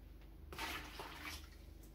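Water running or pouring into a container for cleaning an aquarium filter, a faint splashy flow close by that surges after a short, quiet start.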